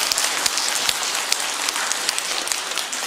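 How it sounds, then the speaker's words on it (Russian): Theatre audience applauding at an anniversary show for a comedy troupe, a dense steady patter of many hands clapping throughout, fairly loud and close, with no speech over it. "Аплодисменты юбилярам"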